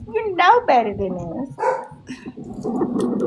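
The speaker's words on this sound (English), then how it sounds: "Whose dog was that?" A dog barks in short yips behind a woman's speech, the barks close and mixed in with her talking over a few seconds.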